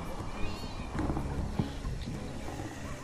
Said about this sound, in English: Do we hear some ambient cats and dogs?